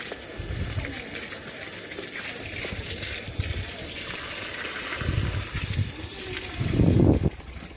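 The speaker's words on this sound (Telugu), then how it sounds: "మొక్కలు పెట్టిన ప్లేస్లలో మళ్ళీ వాటర్ పడుతున్నాను" A steady gush of water splashing onto ground outdoors as newly planted saplings are watered, swelling louder near the end, with faint birds and a voice in the background.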